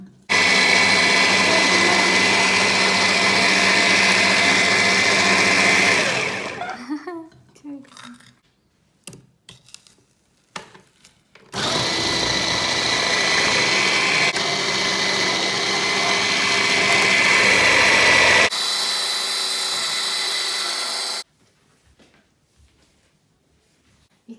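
An Arçelik frozen fruit puree machine whirs loudly and steadily, stops with some clattering and knocks, then starts up again for a long run before cutting off.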